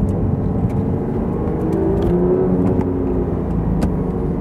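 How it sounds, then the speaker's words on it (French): Porsche 911 GT3 RS in PDK Sport mode with its exhaust valves open, a loud steady engine rumble and whir from inside the car with a slight rise in revs midway, no talking. "mettons un petit peu le PDK Sport, bam, directement les valves qui s'ouvrent"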